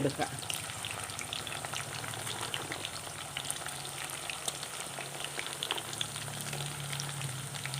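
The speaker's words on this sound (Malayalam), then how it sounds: "വെളിച്ചെണ്ണ ചൂടായിട്ടുണ്ട് ഇനി ഇതിലേക്ക് വട്ടത്തിൽ കനം കുറച്ചരിഞ്ഞ വെണ്ടയ്ക്ക ഇട്ട് കൊടുക്കാം" Steady, dense sizzling of sliced okra frying in hot coconut oil, with crackling pops throughout and no voices.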